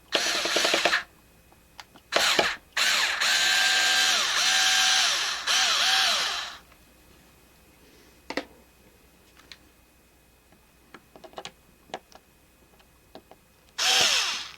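A power drill backs screws out of glued O gauge model train track laid with chick grit ballast: several loud whirring runs in the first seconds, then faint ticks and scrapes, and a final short burst of drilling.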